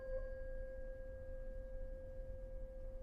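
A vibrating tuning fork pressed against a desktop makes a steady, fairly loud pure hum resonating through the wood, constant in pitch and level over a soft background hiss.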